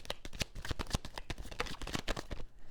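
Tarot cards are shuffled by hand in quick riffling bursts, close and crisp, with a rapid uneven rhythm of slaps and flutters.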